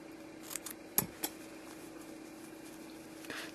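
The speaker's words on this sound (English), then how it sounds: "And then cutting that off." Scissors snip through crochet yarn in a few quiet, sharp clicks close by, a cluster of cuts near the start and another faint snip at the end, against a hushed room.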